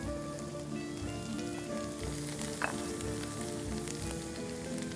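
Butter sizzles and fries steadily in a pan of risotto, a continuous close crackling hiss with small pops throughout and no talking.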